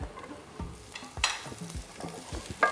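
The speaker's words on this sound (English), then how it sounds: "When that gets hot, it's gonna fry up all these onions." Onions stirred and frying in a hot pan, a soft sizzle beneath close scraping and clattering stirs in uneven rhythm.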